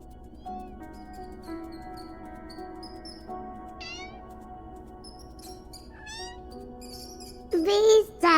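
A cat meows a few times in the video game Copycat, the cries rising near the end over quiet background music, with small chirping tones scattered throughout.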